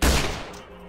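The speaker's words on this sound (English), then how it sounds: "We're gonna shoot." Gunshot in the Roblox game BuckShot Mayhem, a single loud blast that hits at once and then fades quickly in a short echoing tail.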